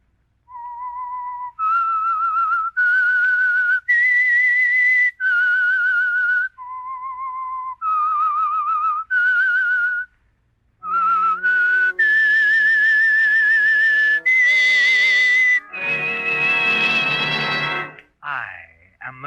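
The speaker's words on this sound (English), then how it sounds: "That whistle is your signal for the Signal Oil program," A loud, clear solo whistle plays the melodic signal theme of the 1948 radio program The Whistler, a run of sustained rising and falling notes that gives way to brighter, swelling tones.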